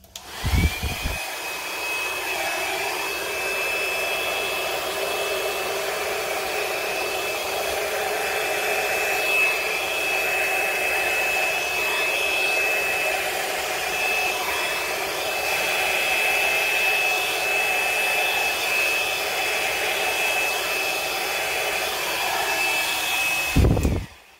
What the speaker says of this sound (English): Let me get the blow dryer.